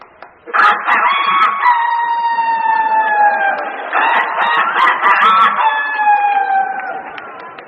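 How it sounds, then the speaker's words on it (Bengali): A rooster crows loudly and close by in two long, drawn-out calls, each rising and then trailing off, with no talking over it. "মোরগ দেখবেন সকালে খাড়া থেকে বের হয়ে পাখাটাকে ঝাপটা মেরে কিরকম ভাবে ডেকে ওঠে।"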